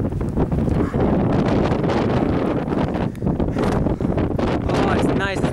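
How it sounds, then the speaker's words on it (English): Strong wind buffets the microphone outdoors in mountain terrain, a loud continuous roar with gusty surges, and faint voices under it. "Oh, it's a nice wind. And it's windy."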